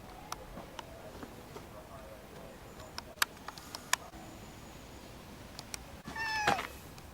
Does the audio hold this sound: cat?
yes